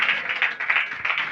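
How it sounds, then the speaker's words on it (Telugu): A church congregation clapping hands during a Telugu sermon, a dense, bright patter of many palms struck together in quick uneven rhythm, moderately loud and close, with no talk over it. "ఆమేన్ చెప్పి చప్పట్లు కొట్టాలి ఇప్పుడు"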